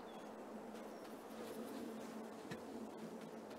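Bees in Farming Simulator 22 give off a low, steady buzzing drone that hovers under faint insect-like flutters, continuous and moderately close, with no talking.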